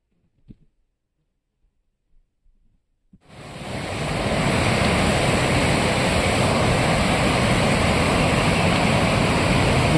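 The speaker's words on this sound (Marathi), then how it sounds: "बाहुबली वॉटरफॉल जबरदस्त व्ह्यू" The Baahubali waterfall roars as a broad, steady rush of falling water, loud and continuous after a few seconds of near silence with faint scattered noises, and no voices present.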